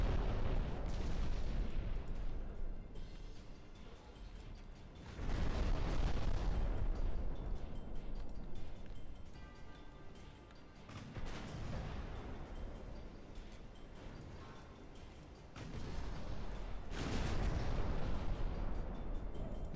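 Naval gun salvos strike ships in Ultimate Admiral Dreadnoughts during a convoy raid, heard as heavy booming blasts arriving in several bursts a few seconds apart, each trailing into a rumbling decay beneath a constant low roar.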